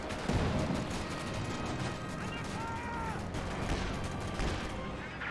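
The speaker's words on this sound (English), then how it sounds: "Panzerwerfer barrage." Panzerwerfer rocket barrage in Company of Heroes 2, a dense, continuous rumble of rocket launches and impacts with crackling blasts throughout, loud and sustained, with faint voices mixed in underneath.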